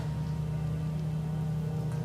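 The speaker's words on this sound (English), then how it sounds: "it's raining, so that could be a noise you hear" Steady rain falls outside at night, a continuous even wash of patter with a low constant hum underneath and no voices.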